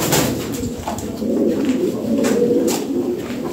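Top-quality selected pigeons cooing close by at a sale, low soft throaty coos repeating steadily over the whole stretch with no voices.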